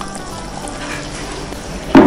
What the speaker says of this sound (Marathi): आता हे पाणी सुद्धा आपण आपल्या चिकन मध्ये घालू